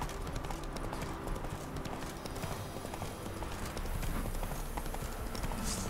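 Rhythmic hoof clip-clop of a galloping horse in The Witcher 3 video game, steady and fairly quiet across the whole stretch, with faint game ambience behind it.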